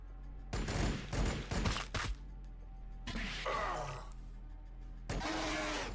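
Bursts of gunfire crackle in a Warhammer 40k battle, several clustered volleys and a heavier rattling barrage, fairly close and punchy with brief gaps between.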